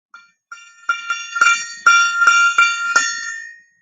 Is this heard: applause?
no